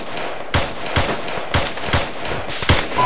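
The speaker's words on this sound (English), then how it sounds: "bullets coming this way" Gunfire in the Arma military shooter game, with about six sharp, loud shots at irregular intervals over a few seconds and no talk.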